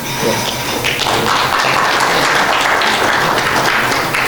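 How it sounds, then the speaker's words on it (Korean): Audience applause at a university business forum book-launch event, a steady wash of clapping with some tapping and thumps, continuous and fairly close, no talk over it. "박수는 이따가 한 번 더 쳐야 됩니다."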